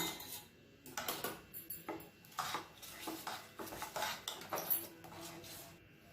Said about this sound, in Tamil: இப்போ இதை நல்லா கலந்து விட்டுக்கலாம்